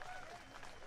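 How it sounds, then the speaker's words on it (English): Spectators at a disc golf tournament cheer and clap in a faint, distant burst of crowd noise, with murmured voices mixed in. "you have been hearing the outbursts of the crowd"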